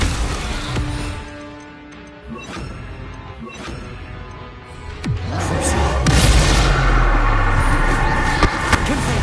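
Bombarda blasting spell going off in Hogwarts Legacy, a series of booming, crashing impacts that swell louder in the second half over a dense wash of game noise.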